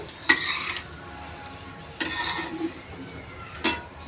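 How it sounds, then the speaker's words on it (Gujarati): Semolina roasts in oil in a pan for upma under a soft, low sizzle, with a few sharp scraping stirs and spoon clinks spaced a second or more apart. "સોજી નાખીશું સોજીને આપણે તેલમાં શેકી દેવાનું"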